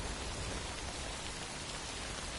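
Rain in the video game Death Stranding, a dense steady downpour pattering on surfaces, even and continuous with no voices over it.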